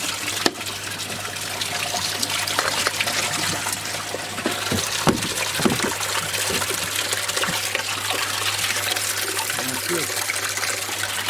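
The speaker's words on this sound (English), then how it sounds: "quite a lot of debris coming in, so I've left the dump valve open until that starts running a little bit clearer." Water runs steadily from an open dump valve on a garden pond filter, a continuous trickling gush with a few sharp knocks, and someone talks over it.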